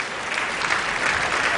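An audience at a stage dance tribute to Sridevi claps in a dense, sustained burst of applause, loud and continuous with no talk over it.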